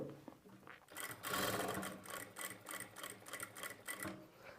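A sewing machine stitches thread piping onto a square neckline, running in rapid bursts with short pauses between them, close and steady with no talking.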